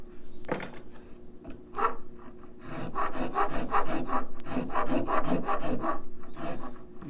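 Hand filing on a wooden guitar heel during carving, a steady series of close rasping strokes in a regular back-and-forth rhythm, loud and continuous with no talk.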